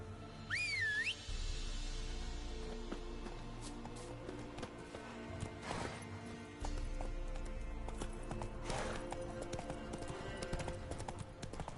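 Horse hooves clip-clopping in The Witcher 3 on PS4, a steady trotting rhythm of close hoofbeats with a short whistle at the start and occasional rustles and game sounds in the background.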